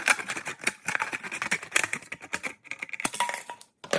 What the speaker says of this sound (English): I can stick my scissors inside and I can cut all the way around.